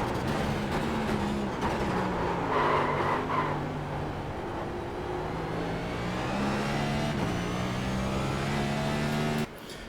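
NextGen stock race car in iRacing on the Chicago street circuit, its engine droning steadily and shifting pitch through gear changes and braking, loud and continuous without talk.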